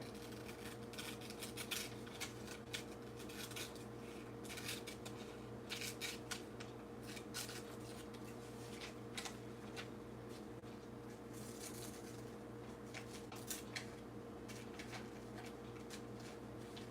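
Scissors cutting a frying pan picture out of a magazine page, quiet irregular snips and paper rustles over a steady low fan hum, faint and close.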